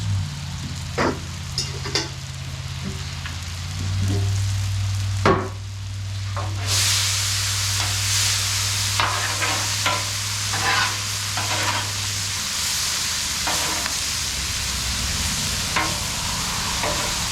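Mushrooms mixed on a hot Blackstone flat-top griddle, metal spatulas scraping and tapping in an irregular rhythm over a loud, continuous sizzle, with a low steady hum early on.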